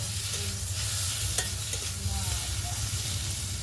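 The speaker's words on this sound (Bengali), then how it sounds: "হলুদ আর লঙ্কা গুঁড়ো দিয়েছি, একটু ভালো করে এটা কষিয়ে নেব" Turmeric and chili powder are stir-fried in a hot pan, giving a steady, loud sizzle with occasional scraping clicks from the stirring, close up and without any talk.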